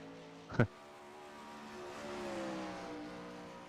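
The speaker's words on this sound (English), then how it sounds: "Beautiful looking race car right there." Race car engine on a dirt track, a steady droning hum with rising and falling harmonic pitch as it rolls out, after a sharp brief crack near the start, with no talking.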